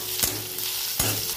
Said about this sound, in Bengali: পেঁয়াজ রসুন কাঁচা লঙ্কা দিয়ে দিয়েছি। ভালো করে একটু ভেজে নেবো।